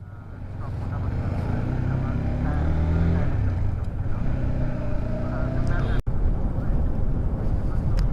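Motorbike riding along a road from Dim Pahar toward Cox's Bazar, a steady loud engine drone and rushing wind that builds in the first second and holds throughout.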